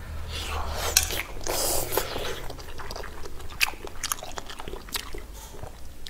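Close chewing and biting sounds of someone eating rice with chopsticks alongside braised pork and duck blood dishes, soft crunches and faint clicks of utensils against a bowl.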